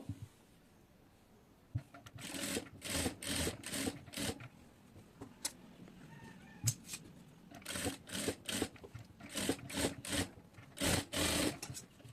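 A sewing machine stitches a stylish designer neckline in repeated short whirring bursts separated by brief pauses, fairly quiet, with no voices.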